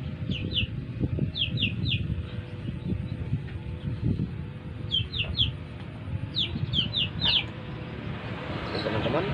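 Chickens, including birds with a snoring respiratory illness, clucking and chirping in short repeated calls over a low, continuous rumble of background noise, moderately near.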